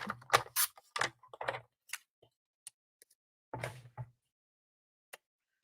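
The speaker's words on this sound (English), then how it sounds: "I'm going to cut off of the first strip." Strips of Stampin' Up! Autumn Splendor designer series paper being cut for a card, with a run of crisp clicking and slicing strokes from a paper trimmer, then quieter isolated ticks separated by near silence.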